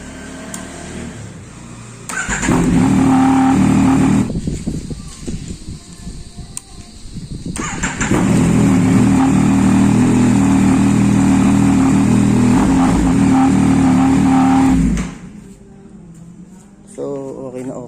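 Yamaha MT-09 Gen3 motorcycle fitted with a lithium LiFePO4 battery, cranking and catching, then idling loudly with a pause and a second run, close by and alone.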